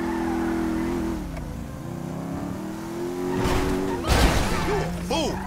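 A motorbike engine in Grand Theft Auto V revs and drones steadily in the game, rising in pitch near the end, with a loud thud or impact partway through and background voices mixed in.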